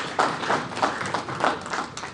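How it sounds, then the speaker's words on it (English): Applause from an audience at a Project Management Institute annual conference, a thin, fairly quiet patter of separate claps in uneven bursts rather than a full roar. "So let's just give the ladies a round of applause."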